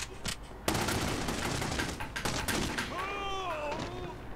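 Rapid gunshots from The Godfather: The Game ring out in a loud volley, then sharp cracks continue in a scattered rhythm before a wavering tone sounds near the end.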